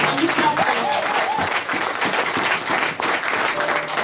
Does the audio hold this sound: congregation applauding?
yes